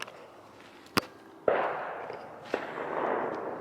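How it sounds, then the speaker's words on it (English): Fireworks go off at a distance as three or four sharp bangs, each followed by a lingering echo that rolls through the open air, with no speech. "It sounds like fireworks, doesn't it?"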